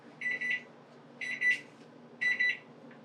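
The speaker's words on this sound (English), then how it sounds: "Our timer is going off." A kitchen timer goes off while a cake bakes, giving three short bursts of high electronic beeping, evenly spaced about a second apart, heard close over a quiet room.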